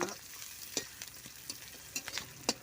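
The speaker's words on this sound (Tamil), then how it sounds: "இது கூடவே பூண்டுமே சேர்த்துக்கலாம் ரெண்டுமே சேர்த்தாச்சு நல்லா வதக்கி விட்டுக்கலாம்" Garlic sautéing with curry leaves in a pan for okra tamarind curry, a soft steady sizzle broken by a few sharp scrapes and clinks as the spatula stirs, close and fairly quiet with no talking.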